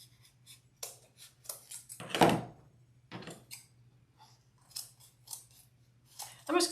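Scissors snip repeatedly at close range, a series of sharp crisp cuts in irregular bursts with short pauses, trimming excess material off the back of a no-sew lemonade wreath; a faint steady hum sits underneath.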